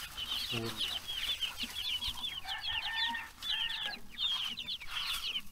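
Backyard chickens, including a native black hen with her chicks, cluck and chirp steadily at close range, with a brief lower call and a few higher peeps mixed in.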